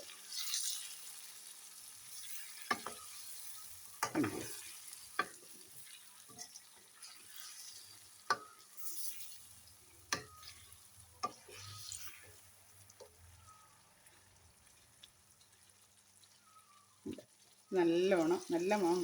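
Mango pickle pieces cooking in oil, a soft low sizzle punctuated by sharp scattered clicks and scrapes of a spoon, quiet overall, with a louder burst of clatter at the very end.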